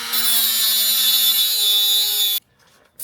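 Saw trimming a hydraulic suspension pipe on a Citroen XM, giving a steady, close, gritty cutting noise for about two seconds that then stops abruptly.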